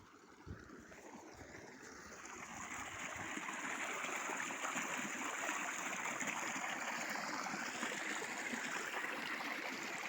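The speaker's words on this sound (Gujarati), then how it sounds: "બતાવું કે આપણી મોટર પાણી કેવું કાઢે છે" Water gushes from a farm pump motor into a field channel, a continuous rushing flow that swells over the first few seconds and then holds steady and fairly close.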